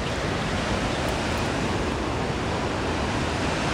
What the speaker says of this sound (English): This is Moolack Beach, just north of Newport.